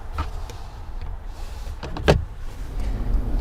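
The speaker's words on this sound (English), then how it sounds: "The rear part even has a sunshade." Electric rear window sunshade moving in a new-generation Mercedes-Benz C-Class: a faint motor whir over low cabin hum, ending with a soft clunk midway through.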